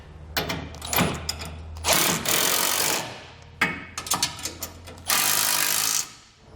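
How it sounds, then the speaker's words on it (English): Power tool, a ratchet or impact driver, tightens the bolts holding a TorkLift SuperHitch Original receiver hitch to its side plates, running in several loud bursts of a second or so with short pauses between them. "Now we can tighten down all of the hardware that holds each side of our hitch to our side plates."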